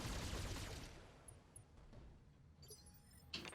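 Mech machine-gun fire in the BattleTech game, a dense burst of rapid rattling shots that fades into scattered metallic clinks and a few later short bursts, quiet overall.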